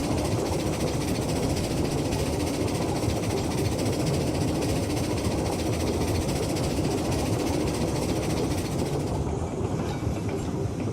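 Wood-burning steam locomotive in Railroads Online rolls steadily, a continuous loud rumble of rail noise and chugging with no talk over it, the hiss thinning slightly near the end.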